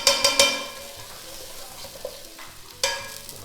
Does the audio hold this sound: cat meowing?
no